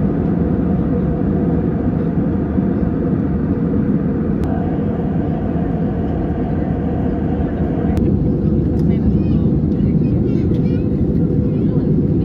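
Airliner cabin during flight and landing: a loud, steady broadband engine roar and rumble fills the whole stretch, with a couple of brief clicks, while faint voices murmur beneath.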